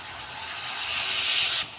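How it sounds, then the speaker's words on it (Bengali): Water poured into a hot pan of frying spices and salt for momo filling hisses and sizzles in a steady, close rush that swells and then drops off near the end, with no talk. "তারপরে পোড়া যেতে না লাগে সেই কারণে পানি দিয়ে দিলাম।"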